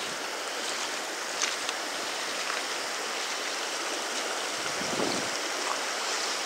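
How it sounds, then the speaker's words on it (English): Creek swollen with winter runoff rushes steadily and fairly close, a continuous broadband wash of flowing water with no voices. "Winter runoff."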